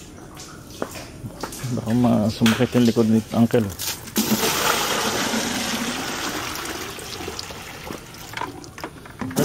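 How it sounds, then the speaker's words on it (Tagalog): Water runs steadily from a shallow source or tap, a continuous broadband rush that swells and persists for several seconds while someone talks over it at first. "May tubig na kagad ah."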